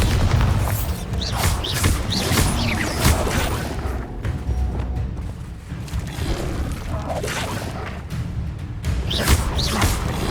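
Bombarda blasting spells in the Hogwarts Legacy game go off as a string of deep, booming explosions with whooshes and crashing debris, loud and dense throughout.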